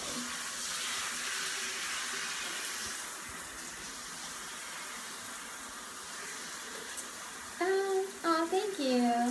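Steady broadband hiss of shower water running in a bathroom, continuous and fairly close throughout, with a voice talking over it near the end.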